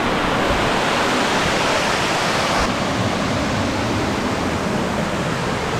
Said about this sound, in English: We've got to walk barefoot up this waterfall.